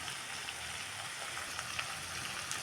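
Bottle gourd milk curry is stirred in a pan after salt is added, with a steady close sizzle and soft scraping that runs throughout.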